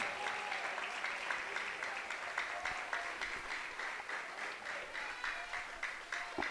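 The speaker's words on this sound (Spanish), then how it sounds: "Brinden un aplauso al Señor." A church congregation claps together in a steady, rhythmic applause that stays soft and somewhat distant, rising and falling gently throughout.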